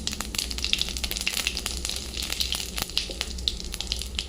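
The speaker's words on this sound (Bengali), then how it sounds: "দেবো জিরে ফোড়ন, শুকনো লঙ্কা ফোড়ন, আর দেবো একটু হিং ফোড়ন।" Cumin seeds, dried red chilies and asafoetida tempering in hot oil in a kadai give a steady, close, crackling sizzle with dense popping throughout and no voices.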